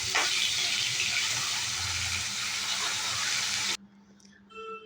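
A hilsa fish head drops into hot oil and fries with a dense, close hissing sizzle that holds steady for several seconds, then cuts off abruptly to near quiet.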